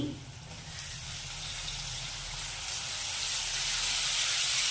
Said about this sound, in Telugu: దాని తర్వాత టమాటాలు వేసుకుందామండి.